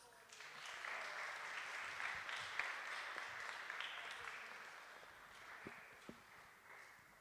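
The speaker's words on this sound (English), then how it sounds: "please give them a round of applause" An audience at a PhD Open event at Gdansk Tech applauds award winners, steady moderately distant clapping that swells, holds, and tapers off near the end.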